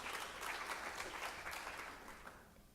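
Audience at a college flex day talk breaks into a burst of clapping that holds steady, then gradually thins and fades out over a few seconds.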